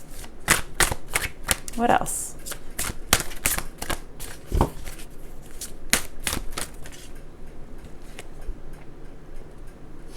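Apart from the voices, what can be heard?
shuffling a large Spirit Animal oracle card deck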